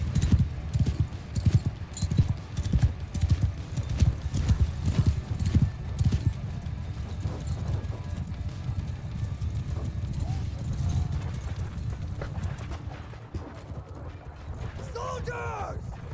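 Cavalry horses gallop into a charge in Mount & Blade II: Bannerlord, their hooves drumming in a dense, fast clatter up close, with a whinny rising near the end.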